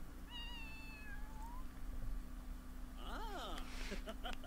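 Animated pet cat in The Sims 4 meowing in a few high, wavering cries early on, with game sounds and a steady background hum beneath; a voice imitating meows is likely mixed in.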